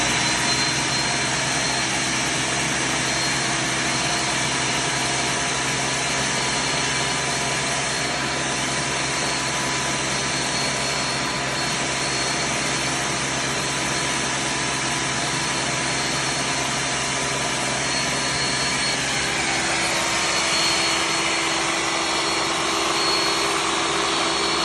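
An electric blender runs continuously while blending quinoa porridge, a loud, steady motor whine and whir that holds unbroken throughout, with a slight shift in pitch near the end.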